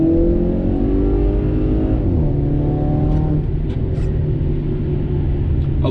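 An Audi A4 with a Eurocharged Stage 2 tune accelerates hard, its engine a loud, steady, close rumbling drone heard from inside the car. The revs rise and hold without any talk over them.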